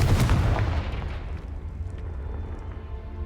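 A blasting spell explodes in a Harry Potter video game, a loud booming burst at the start that rolls off and fades into a lingering low rumble with scattered faint crackles.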